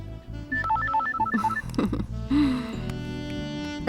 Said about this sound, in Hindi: उसी का फोन होगा।